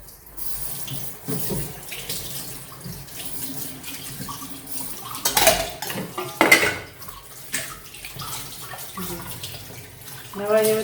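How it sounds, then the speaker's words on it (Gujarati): Clean running water rinses copper and bronze vessels in a sink, with continuous splashing, metal clanks and scrapes of pots against each other, and louder bursts of water and knocking near the end. "હવે આપણે ચોખ્ખા પાણીથી ધોઈ નાખીશું."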